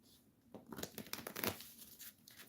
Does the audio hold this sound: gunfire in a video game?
no